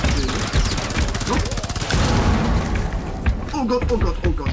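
Rapid bursts of gunfire and booming blasts in Rainbow Six Siege's Outbreak mode rattle on, with a person talking excitedly over the shooting.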